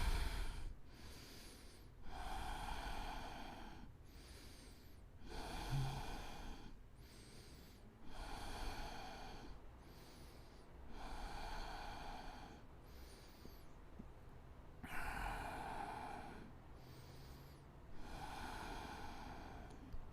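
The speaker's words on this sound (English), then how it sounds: "Feel 3 deep breaths in the forward fold" Slow, deep breathing during a yoga forward fold: long, airy inhales and exhales alternate in a steady rhythm, close and clear, with no talking.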